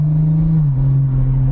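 BMW M140i with a new exhaust, engine droning at a steady, loud low pitch that dips slightly partway through, heard from inside the moving car.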